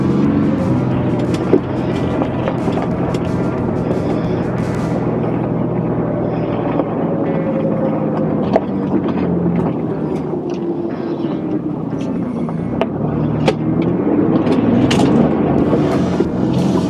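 Ford Bronco engine droning steadily while crawling off-road in four-wheel drive, a constant loud low rumble with occasional knocks and rattles from the terrain throughout.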